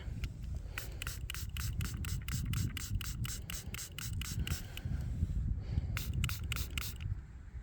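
Rapid bursts of an aerosol spray hiss in quick succession onto a found silver hammered coin, a pause, then a few more short sprays, over a low background rumble.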